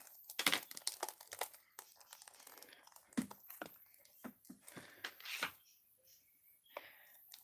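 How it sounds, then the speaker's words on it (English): A LEGO Steelbook case being unwrapped, close crinkling and tearing of plastic film in irregular bursts with quieter gaps between, nearby and with no talking. "I just need to unwrap this."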